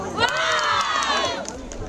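A large community crowd of mothers and young girls cheering and shouting at a netball semi-final on an outdoor court, a dense, lively roar of overlapping voices throughout.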